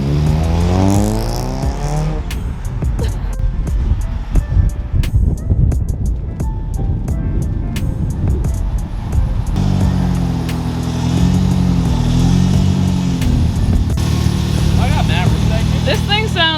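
A tuned 2002 Subaru WRX bugeye engine revs hard, its pitch rising and falling in long sweeps, with excited voices shouting and talking over it throughout.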